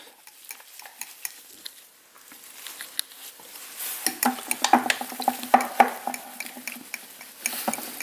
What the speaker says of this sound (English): I rotate the jar to make sure I get everything stirred up really well.